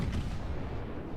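A battleship's front guns fire in the naval game World of Warships, a heavy, deep booming blast that fills the brief moment with low rumble.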